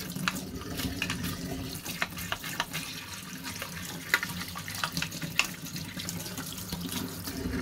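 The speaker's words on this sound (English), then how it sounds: "There we are, there's a quick rinse." Tap water running steadily as plastic model train bodies are rinsed after paint stripping, a continuous close splashing hiss broken by irregular louder spatters where the stream strikes the shells.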